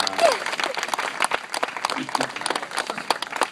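Audience applause at a hypnotist stage show, steady clapping from a crowd lasting several seconds, with a few louder sharp claps standing out near the start.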